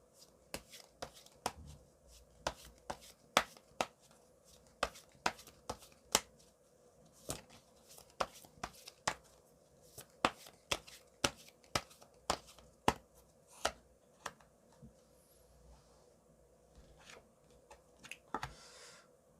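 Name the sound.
shuffling and drawing tarot cards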